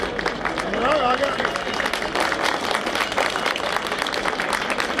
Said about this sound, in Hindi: भाई ताली थोड़ी सी जोरदार कर दो